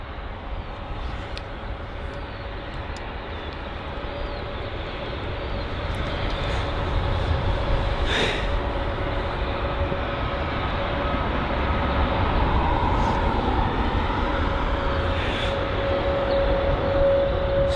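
A jet airliner departing London Heathrow on a busy Easter Sunday, heard far off as a steady broad roar that swells after the first few seconds and holds at a moderate level.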